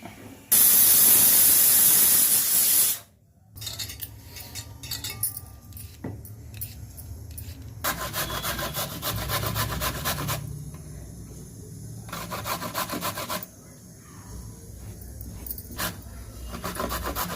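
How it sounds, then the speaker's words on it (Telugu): Four carrots being grated by hand for carrot rice: a loud rasping burst at the start, then repeated rough scraping strokes in bursts, close by, with no talk. "నాలుగు క్యారెట్లు తురిమేస్తున్నాను"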